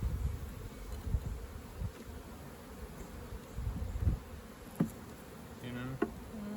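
Honey bees buzzing around a swarm trap during a beekeeping transfer, a steady close hum of many insects with a few louder passes and light knocks, no talking.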